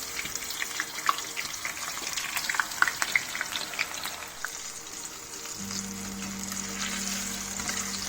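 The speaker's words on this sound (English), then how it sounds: "you have to deep fry the brinjal to a golden brown" Brinjal pieces deep fry in smoking hot oil, giving a steady close bubbling sizzle with scattered pops and crackles, joined later by a low steady hum.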